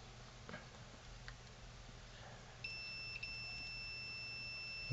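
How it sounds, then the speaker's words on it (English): A multimeter on its continuity/resistance range testing inductor components during a Uniden SSE25 cordless phone repair gives a steady high electronic beep that starts partway through and holds, with a brief dropout, over a quiet room hum. "a beep for short circuit."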